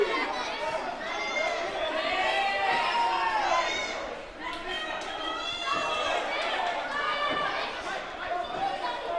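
A Johnstown wrestling crowd at a live pro wrestling event roars and chatters continuously, a dense swell of voices and shouts filling the arena, rising and dipping but never falling quiet.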